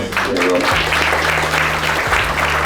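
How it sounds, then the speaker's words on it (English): Audience applause at a motor racing driver Q&A event at Silverstone, a brief burst of clapping with a low hum running underneath. "that deserves a round of applause"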